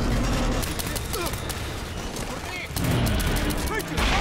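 Rapid gunfire rattles in dense bursts through a combat scene in the video game Medal of Honor Warfighter, loud and continuous, with a voice talking over it.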